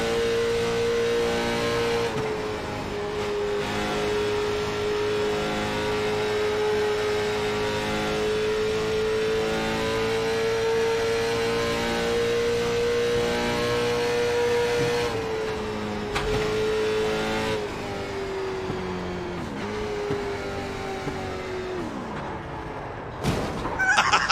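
A late model race car runs laps on a track, its engine holding a loud, steady droning whine with small pitch dips and shifts throughout.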